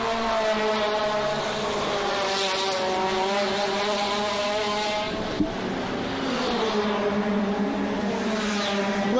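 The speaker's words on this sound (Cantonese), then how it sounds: "鏡頭呢一部33號呢一部嘅車咧就係馬清華部車啦" A WTCC touring race car screams past on the Macau Grand Prix street circuit during practice, its engine note rising and falling through gear changes, loud and close, with one sharp transient midway.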